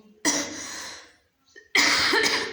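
A person with a cold coughs hard in two rough, harsh bursts, each about a second long and close to the microphone, separated by a brief quiet gap.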